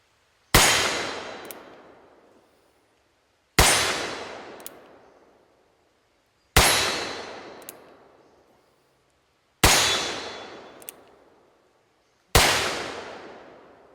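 Five loud gunshots from a single action Starr percussion revolver fired with conical bullets, evenly spaced about three seconds apart, each a sharp crack with a long decaying outdoor echo and no talk.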